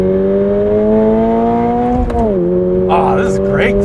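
A 2022 Toyota GR86 launches hard on a track, the engine note climbing steadily and close through the revs before a brief dip at the shift, with a person talking over the sound.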